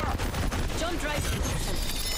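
Enemy gunfire in a space combat video game, a dense stream of rapid shots and impacts running continuously over a low rumble, with a voice speaking faintly beneath.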